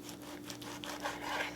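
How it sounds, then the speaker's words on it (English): A knife saws back and forth through a beef roast, cutting it into cubes, several quiet rhythmic rasping strokes heard close and faint over a low steady hum. "We're gonna cut our roast into about 2-inch cubes, 1 to 2 inch cubes"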